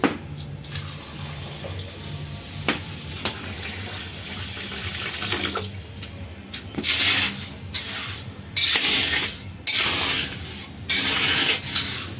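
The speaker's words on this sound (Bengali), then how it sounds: "আমি এখানে চিনি দিলাম এক ঘটি জল দিয়ে দিচ্ছি" Water pours from a pot onto sugar in a vessel to make syrup for bonde, a close, continuous splashing gush that comes in several strong bursts toward the end.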